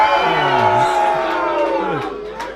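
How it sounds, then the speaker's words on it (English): Crowd at an arm-wrestling event, mixed boos and cheers swelling together as loud, sustained voices in a large indoor space. "Some boos, some cheers in the crowd."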